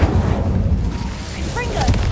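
An Incendio fire spell cast in the game Hogwarts Legacy, a loud, dense whooshing burst of flame with heavy low rumble throughout the short moment, plus brief sparkling effects near the end.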